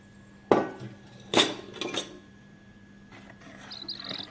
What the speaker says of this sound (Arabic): تقليب خفيف كده في اتجاه واحد